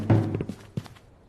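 In A Township Tale, an arrow strikes a chicken with a dull, close thunk, followed by a few softer knocks and a second muted thud before fading out.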